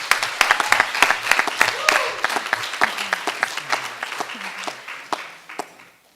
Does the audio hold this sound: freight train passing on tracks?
no